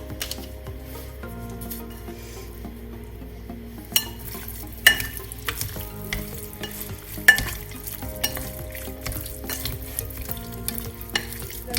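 Turkey pieces are stirred with saffron, pepper and salt in a pan, with a soft sizzle beneath repeated light scrapes and clicks of the utensil, close and quiet, no talk.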